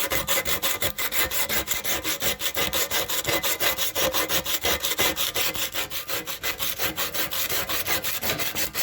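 120-grit sandpaper is worked by hand across a car body tub in rapid, regular back-and-forth strokes, a close, dry rasping rhythm that repeats steadily from start to finish.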